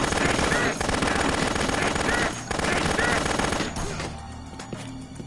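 Gunfire from Dead Rising Remastered, with loud rapid automatic bursts that are close and continuous, broken by short gaps, before thinning out near the end.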